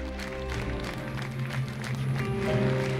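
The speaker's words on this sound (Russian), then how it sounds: "По театральной традиции звучали аплодисменты." Mourners applaud by theatre tradition at the funeral farewell for actress Marina Golub, a soft, steady patter of many hands clapping at a distance, with a faint murmur and a low hum underneath.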